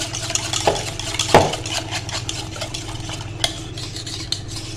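Creamy macaroni pasta sauce stirred in a pan, a soft continuous scraping and swishing with a few sharper clinks of the utensil against the pan, over a low steady hum.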